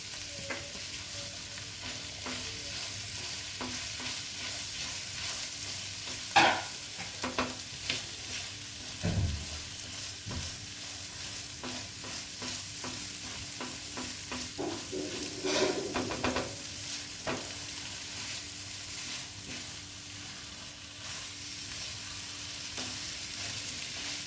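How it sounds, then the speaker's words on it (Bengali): Pointed gourd with sugar, cumin powder and garam masala sizzles steadily in a pan while being stirred, with occasional louder scrapes and knocks of the spatula against the pan. "এবার এগুলোকে ভালোভাবে নেড়ে ছেড়ে নেব, ভাজা ভাজা করে নেব।"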